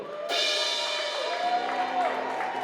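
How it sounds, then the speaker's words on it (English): A round of applause breaks out suddenly at an Adaptive Sports Foundation 40th anniversary fundraiser, a dense burst of clapping from a gathered crowd, with some cheering voices mixed in. "Let's hear a round of applause for everybody out here"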